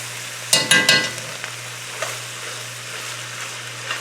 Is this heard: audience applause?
no